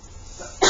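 A single sharp sneeze bursts out at the very end, loud and close, after a quiet room during a geometry practice lesson.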